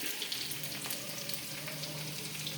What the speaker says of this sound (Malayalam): അപ്പോൾ നമ്മൾ സ്വല്പം കറിവേപ്പില കൂടെ അങ്ങോട്ട് ഇടുകയാണ്.